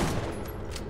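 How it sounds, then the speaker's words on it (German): Two gunshots fired at the same moment in the PC shooter Borderlands, a dense, loud burst of gunfire filling the whole short moment with no pause. "Ah, zwei Schüsse gleichzeitig."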